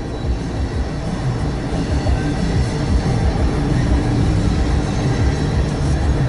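A Norfolk Southern freight train rolls past close by, a loud, continuous rumble of wheels and cars holding steady throughout.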